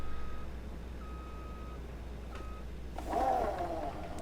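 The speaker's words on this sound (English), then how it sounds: "I'm going to have to reverse and come at a different angle." A harvester in Farming Simulator 25 gives steady, evenly spaced reversing beeps: three clear tones over a low engine hum, followed by a louder burst of machinery noise.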